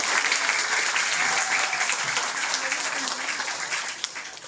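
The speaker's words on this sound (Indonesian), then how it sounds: "Tepuk tangan buat guru juga." An audience at an Isra Mi'raj religious gathering in Ciledug applauds teachers, steady dense clapping that holds for several seconds before tapering slightly near the end.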